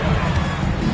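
Sold-out arena crowd at a Sacramento Kings home basketball game, a loud steady roar of hubbub and cheering that fills the whole second without a break.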